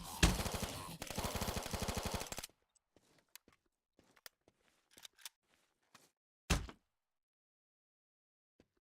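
Automatic gunfire from a zombie shooter video game: a dense two-second burst of rapid shots, then scattered quieter clicks and single impact hits, with one more short loud blast near the end.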